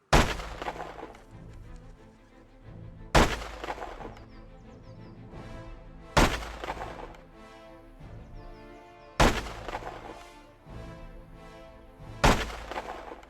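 Six mortar rounds fire in the video game Arma Reforger, each a sharp heavy thump followed by a long rolling decay, spaced evenly about three seconds apart with nothing between them.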